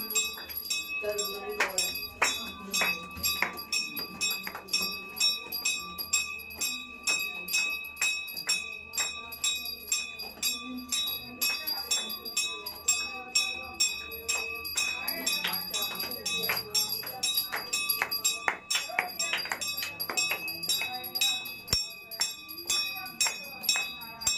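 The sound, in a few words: temple bell being rung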